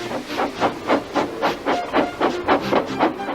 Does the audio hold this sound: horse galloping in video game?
no